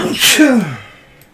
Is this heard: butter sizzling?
no